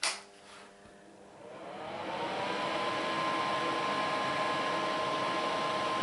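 A nail dust extractor fan starts after a soft thump and spins up over about two seconds into a steady, fairly quiet whir with a faint whine, then runs on evenly with no speech.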